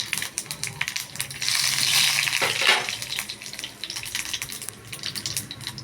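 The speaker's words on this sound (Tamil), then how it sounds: "கடுகு, கொஞ்சம் சீரகம் எண்ணெயில் போட்டுக்கணும்." Mustard seeds and cumin hit hot oil for tempering, bursting into a loud hissing sizzle that peaks and then settles into a steady crackle with scattered pops.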